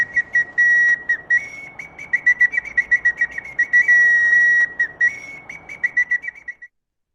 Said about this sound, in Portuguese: apito indígena.